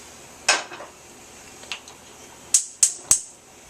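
Metal pan with butter and shallots set onto a stove, a few sharp clanks and scrapes of metal on metal, close and distinct, ending in three quick ringing knocks.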